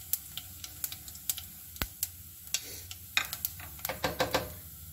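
Coarse coriander and whole cumin seeds fry in hot oil for kulthi dal, giving a quiet sizzle scattered with crisp pops and crackles, plus occasional sharp ticks and clinks close by.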